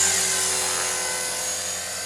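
A radio-controlled helicopter's rotor and motor whine steadily and loudly as it lifts off, alone without talk.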